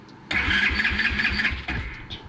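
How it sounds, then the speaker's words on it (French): A motorcycle engine is turned over with the kick starter in short repeated kicks without catching, giving a near, loud, uneven mechanical churning that stops abruptly, then one brief final turn. "Pour ceux qui ont le kick, vous mettez des petits coups de kick. Il ne faut pas démarrer la moto, il faut juste faire tourner le moteur."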